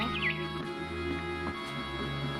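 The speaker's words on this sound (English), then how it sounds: "Then I heard chirping outside my window." A barn swallow chirps in the video game What Remains of Edith Finch, one short, thin call near the start over a steady droning ambient background.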